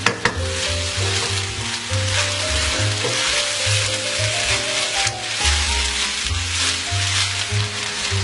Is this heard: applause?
no